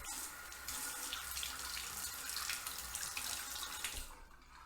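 Water from a running tap rinses shaving soap (Barrister and Mann Seville) off a Rockwell 6S razor, a steady close stream of flowing, splashing water that eases off at the end, with no talking.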